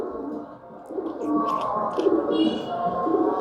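Pigeons kept by a keeper coo softly and steadily, close by, with faint chirps above.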